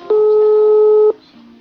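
A steady telephone line tone sounds during a call, one clear, loud, unbroken beep lasting about a second before it cuts off into quiet room noise.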